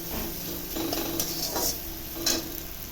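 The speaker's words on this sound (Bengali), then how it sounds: "পেঁয়াজটা একটু ভাজা ভাজা হোক" Onions frying in a pan for a Bengali fish and egg curry give a soft, steady sizzle, with a few brief scraping stirs standing out near and clear, and no talking.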